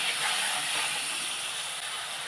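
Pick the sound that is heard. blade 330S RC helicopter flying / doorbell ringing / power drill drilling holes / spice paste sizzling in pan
spice paste sizzling in pan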